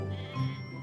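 A sheep gives a single short, wavering bleat, close and clear, with no voices around it.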